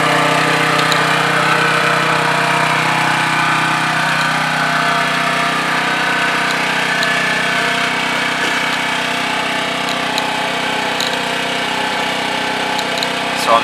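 A Caterpillar RP3600 portable generator runs from about 20 feet away, giving a constant, moderately loud engine drone with a steady hum and no change in pitch.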